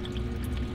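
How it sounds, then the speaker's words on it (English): A small running waterfall trickles inside a green tree python terrarium with carved foam and branches, a steady soft pouring and splashing of water with no voices. "that is a running waterfall"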